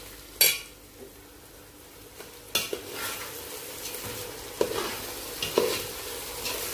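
Arroz caldo of meat and rice is stirred in a pot, with soft scraping and occasional sharp clinks of a utensil against the pot over a faint background sizzle.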